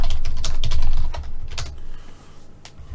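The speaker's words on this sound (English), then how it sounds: "What on earth am I pressing on the keyboard?" Rapid clattering keystrokes on a computer keyboard during an online chess game, several sharp clicks over about three seconds against a low background hum, fairly close and with no one talking.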